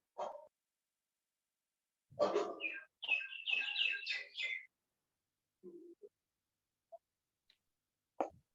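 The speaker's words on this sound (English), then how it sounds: "අපිට මේ කුරුල්ලෝ කෑ ගහනවා ඇහෙනවා" Birds outside a classroom chirp and call in short scattered bursts, with one busier run of rapid tweets mid-way and isolated faint calls later, heard over otherwise quiet room tone.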